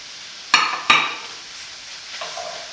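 Mushrooms and butternut squash dropped into a pan for risotto, two sharp clatters of utensil against the pan close together, then a faint sizzle and light scraping as the pieces settle.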